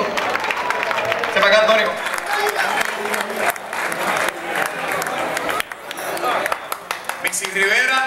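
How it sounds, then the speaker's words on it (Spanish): An audience at a Coamo town walking event applauds, a dense stretch of clapping and crowd noise that runs under a voice speaking throughout. "un aplauso para Antonio, el piloncito"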